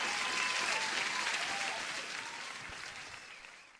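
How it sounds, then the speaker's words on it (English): A dense round of applause, steady and moderately close, slowly fades toward the end, with no talking over it. "Applause to Trader G."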